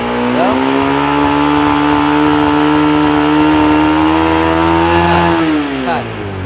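A motorcycle engine is held at raised throttle, a loud, steady, buzzing drone that swells slightly before easing off near the end, during a check of a bike's headlight and battery voltage.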